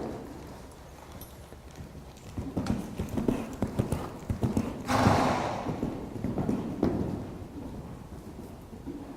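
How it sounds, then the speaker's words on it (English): A dressage horse's hooves strike the ground in a steady series of thuds during a riding clinic, moving closer and then away, with a brief gusty rush partway through. "Wow, we got a dressage horse."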